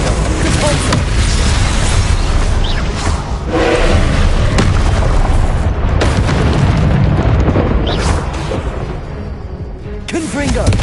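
Confringo blasting spell going off in the Hogwarts Legacy video game, a loud rumbling boom with thumping bursts sustained across the whole stretch, dense and close amid busy combat noise.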